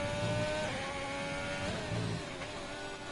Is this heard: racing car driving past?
yes